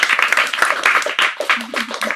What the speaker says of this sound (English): Let's give you both a round of applause again.